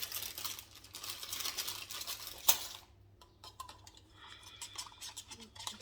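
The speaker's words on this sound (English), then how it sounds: "we're going to give it a stir" Acrylic pouring paint mixture being stirred in a container, a quiet, soft scraping and swishing with one sharp click partway through and faint clinks toward the end.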